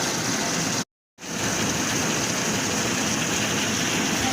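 Steady rain pours down in a dense, unbroken hiss, loud and close, cutting out briefly once before resuming at the same strength.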